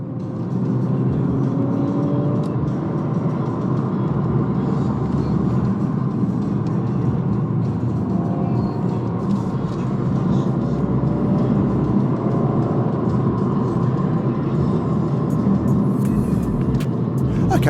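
A BMW M135i hot hatch drives on the road with a steady, fairly loud engine drone and road rumble that hold constant for the whole stretch, with no pauses and no talk over it.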